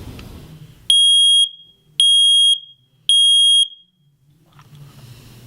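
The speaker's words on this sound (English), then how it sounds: "push the test button and the alarm will sound" A USI electric smoke alarm with a pull tab sounds after its test button is pressed: three loud, piercing, evenly spaced beeps, each about half a second long, close up with faint room noise between them.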